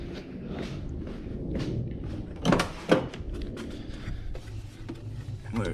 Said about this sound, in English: I'm going to open the hood real quick.